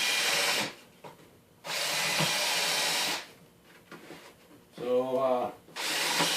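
A power drill with a countersink bit pre-drills plywood while a bay window is installed, whining in three long sustained runs separated by pauses, with a short voice in one gap.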